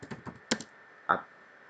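An apt install command goes in on a computer keyboard as a quick run of close, crisp key clicks, then a pause and one firmer keystroke, quiet with no voices.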